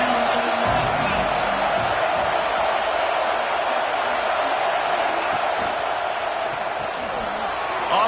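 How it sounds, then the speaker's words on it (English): A packed football stadium crowd roars steadily during an LSU college football game against Rice, a dense, continuous wall of cheering and noise with a commentator's voice running over it. "Crowd trying to make life miserable for this offense"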